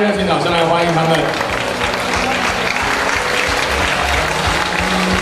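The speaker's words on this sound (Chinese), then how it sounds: "我们就以热情的掌声来欢迎我们的评审小唐老师、优胜老师、G 以及芒啊，重新的回到舞台上面来" An audience at a cosplay contest awards ceremony applauds as the judges come back on stage, a sustained burst of clapping heard under someone talking over a microphone.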